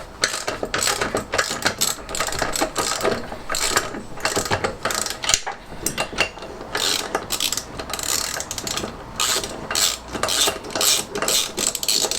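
Ratchet wrench loosening the wheel bolts on a classic Fiat 500, clicking in quick repeated bursts of pawl ticks with brief pauses between strokes, close and clear.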